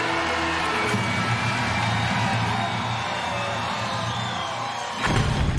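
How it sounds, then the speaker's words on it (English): A large arena crowd at a Medieval Times dinner tournament cheering for the knights, a sustained roar of voices and whoops that swells louder near the end. "My lords, my ladies, raise a cheer for the Knights of the Realm!"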